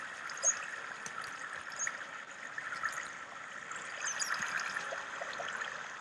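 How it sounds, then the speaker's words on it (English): Water flowing from a water source in Minecraft makes a steady, close trickling stream with a soft gurgle. It runs evenly from start to end, with no voices over it. "Let's block off this water source, because this water source is highly irritating"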